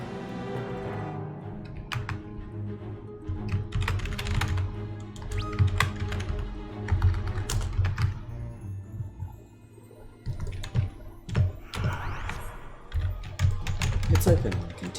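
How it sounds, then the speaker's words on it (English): Frantic, rapid typing on a computer keyboard close to the microphone, dense bursts of clicks with short pauses, over background music and game sounds from Final Fantasy XIV. "So the reason you can hear me typing is because there's somebody in the party who's asking a bunch of questions."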